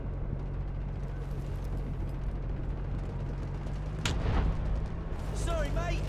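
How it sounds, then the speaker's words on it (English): Rumbling artillery and booming impacts roll through a multiplayer match in the Delta Force demo, steady background battle noise with a sharper blast partway through, while a radio-style voice speaks over it. "Incoming artillery, destroy the enemy."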